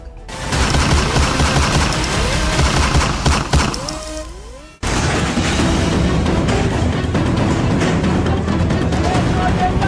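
Rapid bursts of gunfire crackle through a protest in Pakistan-occupied Kashmir, loud sustained volleys that break off abruptly midway and resume over a noisy crowd, with no speech over them.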